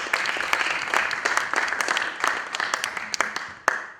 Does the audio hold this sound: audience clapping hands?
yes